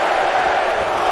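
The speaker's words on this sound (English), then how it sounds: "Listen to this crowd" A loud, dense crowd roar of cheering and shouting from the WWE 2K18 wrestling video game, sustained without a break across the whole moment.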